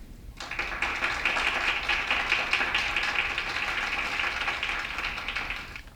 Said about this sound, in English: Here we have some clapping.